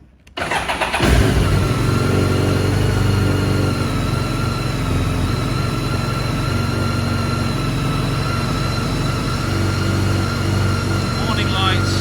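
A 2009 BMW K1300 GT motorcycle engine cranks and catches with a loud start, then settles into a steady, close idle that runs evenly for several seconds.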